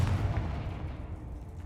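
The Confringo fire spell goes off in Hogwarts Legacy with a brief, booming blast. A heavy low thump opens the clip and then decays into a rumbling tail.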